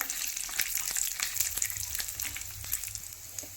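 Cashews, almonds and dried coconut fry in hot oil for a sweet lapsi, a steady high sizzle broken by light spoon scrapes and soft clicks against the pan, close and continuous with no talking.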